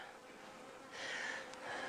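Honey bees buzzing around an opened hive during a spring inspection, a soft close hum that swells as a bee passes near, with no talking.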